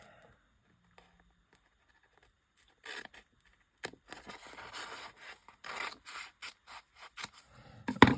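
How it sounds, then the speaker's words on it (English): Scissors snip through a double-sided adhesive sheet for a handmade greeting card, a run of close, quiet crisp cuts and rustles over about five seconds after a near-silent start. "I'm going to cut it just slightly smaller than the rectangle."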